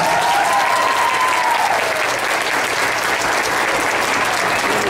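Dense, steady applause fills a tribute ceremony, a large audience clapping continuously at full volume, with a voice briefly heard over it at the start.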